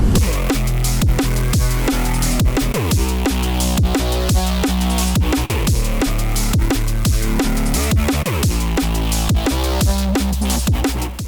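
A deep, gliding synth bass line plays over a steady, punchy drum loop, loud and continuous with regular kick and hat hits throughout.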